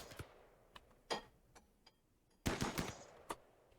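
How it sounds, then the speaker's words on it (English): Gunfire from a character shooting at a hobgoblin in the colony game Rimworld, a handful of sharp separate shots spread over a few seconds with a louder burst near the middle, fairly quiet overall with no talk. "He opens fire."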